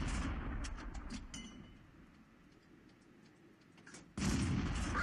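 Tank cannon fire in the video game World of Tanks, one sharp blast followed by clinking, ticking mechanical sounds, then a second heavy shot near the end, with no talk.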